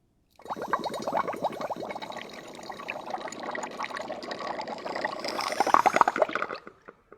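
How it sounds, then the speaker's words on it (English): Hydrogen gas bubbling into soapy water in a lab, a steady gurgling, frothy stream of bubbles that runs for several seconds, close and fairly loud, and swells slightly toward the end. "I'll get some soapy water, and I'll shoot in the hydrogen"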